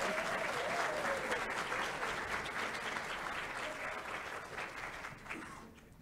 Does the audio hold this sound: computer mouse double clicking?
no